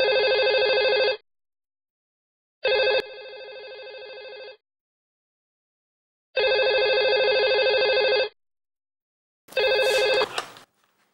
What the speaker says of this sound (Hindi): ला बेटा का फोन है